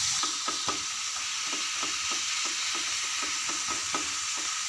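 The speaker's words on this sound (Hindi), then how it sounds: "और इसको अच्छी तरह हम अभी सौटे कर लेते हैं।" Bottle gourd curry masala with tomato is sautéed in a pan: a soft steady sizzle is broken by regular scraping strokes of a spoon stirring, roughly twice a second, close and with no voices.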